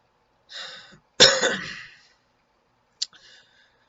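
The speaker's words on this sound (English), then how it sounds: "My cough isn't the Rona." A smoker coughs and clears his throat: a short raspy rumble, then a louder harsh cough burst, and a brief final hack after a pause, all close and with no speech.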